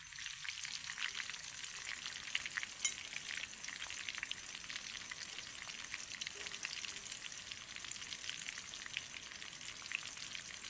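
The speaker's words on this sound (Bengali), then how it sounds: "এরকম তেলেতে নেড়ে নিব।" Food stirred and fried in hot oil gives a soft, continuous crackling sizzle, fairly faint and steady, with a few sharper pops and spatula taps.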